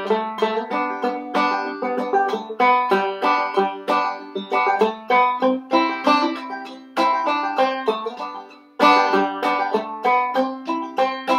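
Clawhammer banjo playing a tune, brushed strums and frailed notes in a steady bouncing rhythm, played solo and close, with one brief gap near the end before the tune resumes.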